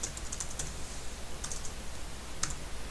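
Quiet clicking of keys on a computer keyboard while someone writes a simple printf statement in a code editor, short bursts of taps with brief pauses, close and faint over a steady hiss.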